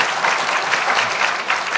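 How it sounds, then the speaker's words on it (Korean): Sustained applause from a press-forum audience, dense and steady clapping at close range throughout without a break. "박수는 한번 보내주시지 않겠느냐"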